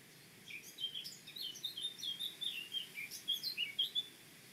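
A blackcap sings a short burst of bright, warbling chirps that rise and fall in quick phrases. The bird sounds clear and moderately close over a faint low background hum.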